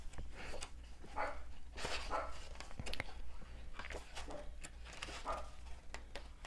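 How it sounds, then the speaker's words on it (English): A dog barks off in the background of a quiet indoor room, a few muffled yips and barks repeating at irregular intervals over a steady low hum. "My dog is barking."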